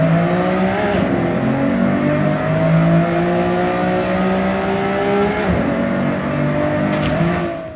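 A Nissan Skyline R33 Autech RB26 engine in the video game Forza Horizon 6 revs up hard and holds a high, rising whine, easing off twice before climbing again, loud and close with no talking.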